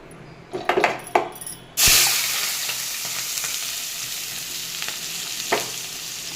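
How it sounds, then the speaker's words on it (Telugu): Onions hit hot oil in a pan for a Telugu egg curry: a few utensil clatters, then a loud, steady sizzle that bursts in and holds throughout, close up. "ఆనియన్స్ బాగా దోరగా వేపుకోవాలి"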